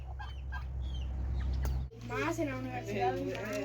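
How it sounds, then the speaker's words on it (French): Turkeys gobble and cluck in a lively farmyard chorus in Yucatán, Mexico, with a low engine-like hum underneath that cuts off partway through. "et ça c'est les dindons. Les dindons!"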